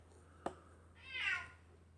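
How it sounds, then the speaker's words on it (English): A cat gives a short chirp followed by one clear, drawn-out meow in a quiet room, with a faint steady hum underneath. "Meow, yeah, same to you, Sonny."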